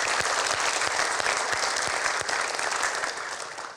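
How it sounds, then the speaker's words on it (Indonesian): A seated audience claps together at a motivational gathering, a dense, steady applause sustained at full strength from start to finish with no voices rising above it. "Boleh tepuk tangan semuanya."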